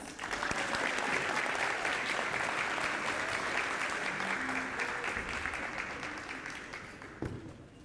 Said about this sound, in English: please make a big round of applause for Alynna's parents, Mr. and Mrs. Rosas.